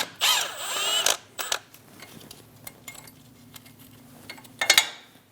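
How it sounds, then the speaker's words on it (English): Power tool spinning a 10 mm socket to remove a brake line bracket bolt on a 2001-2006 Chevrolet Silverado 2500 HD: a close whining burst of about a second, faint clinks, then another brief whir near the end. "Using a 10mm socket, remove the bolt for the brake line bracket."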